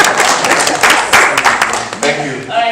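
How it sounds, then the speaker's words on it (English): An audience at a Namibian grape growers' live-streamed session claps: a dense burst of applause with a voice talking over it, thinning out toward the end. "clap it for me"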